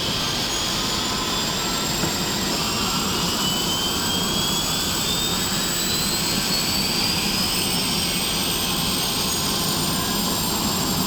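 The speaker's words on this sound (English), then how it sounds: "And we're getting ready to spool up." A Bell 412 helicopter's turbine engines spooling up in a P3D flight simulator, a loud steady roar with a high whine climbing gradually in pitch throughout, heard alone without talk.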